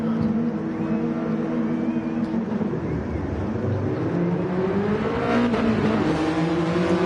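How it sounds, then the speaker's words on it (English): A Toyota Yaris race car pulls hard off the start line, its engine note climbing steadily in a loud, sustained rev that swells toward the end, with other cars droning close by. "Again, that Yaris, it's just insane off the line."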